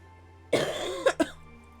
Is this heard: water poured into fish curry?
no